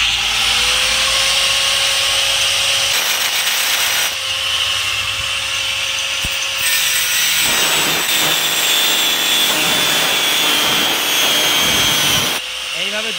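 A power tool cuts a groove, its loud whine running in long passes broken by short pauses and changes in pitch as the blade works the material.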